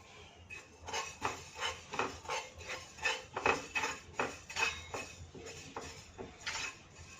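Dill seeds roasting in a hot pan and being stirred with a spoon, heard as a series of light, close metallic scrapes and clinks in an uneven rhythm, fairly quiet and with no talking.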